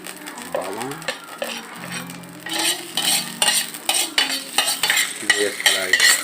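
Garlic stir-frying in hot oil for a cabbage and egg dish, a soft sizzle under repeated scraping and stirring of a utensil against the pan, growing busier and more rhythmic in the second half.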